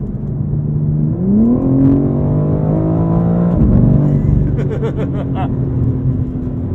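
BMW M4 CSL engine revving hard from inside the car, the pitch climbing and falling, then snarling overrun with a burst of crackles and pops at the end of the rev.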